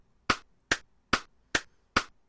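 Ableton Live click track counting off four beats in music production: evenly spaced sharp percussive clicks, five in quick succession, close and clean against silence.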